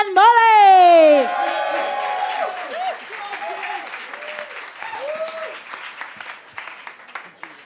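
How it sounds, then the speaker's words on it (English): Audience at the Cavern in Liverpool during a live song contest final, cheering, whooping and applauding; a loud shout opens it, then clapping and cheers carry on and slowly thin out. "I want one more big cheer from everybody here at the Cavern for James and Molly."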